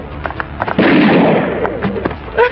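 Loud gunfire and bursting blasts during an action scene of a Hong Kong film, a sustained roaring volley with scattered sharp pops before and after, close and dominant.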